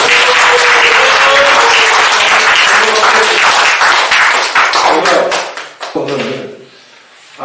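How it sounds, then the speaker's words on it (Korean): Crowd applause at an education campaign event in Dongducheon, loud and dense from the start, then thinning into individual claps and trailing off near the end. "여러분께서 바꿔야 된다고 생각하시면 박수 쳐주시고"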